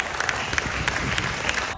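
An audience at a high school rock music competition in Tainan breaks into applause, with continuous clapping and a few sharp individual claps standing out near the listener.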